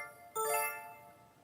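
A single bright electric-piano-like tone with bell overtones from a Phantom 8 synthesizer's Crystal electric preset strikes once and rings out, decaying softly over about a second.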